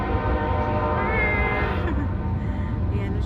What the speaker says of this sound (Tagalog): Just by chance na nakita kong dumaan yung train.